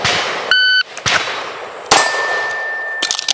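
Sharp metallic clangs and ringing dings from pistol rounds striking steel shooting targets during a timed practical shooting run, several separate hits with lingering tones, fairly loud and distinct against a quiet background.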